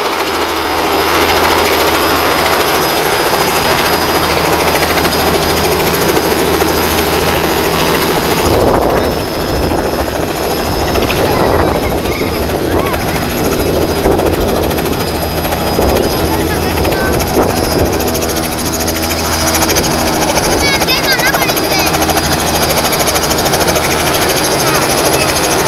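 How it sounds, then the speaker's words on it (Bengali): A helicopter arriving from Dhaka for short joyrides, its loud continuous rotor and engine roar filling the whole stretch close by, with people talking underneath. "হেলিকপ্টারটা আসছে ঢাকা থেকে।"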